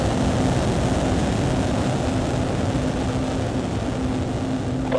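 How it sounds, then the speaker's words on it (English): SpaceX Starship rocket engines throttling up during flight 12, a steady, dense broadband roar that holds loud and unbroken throughout, with no speech over it. "Throttle up."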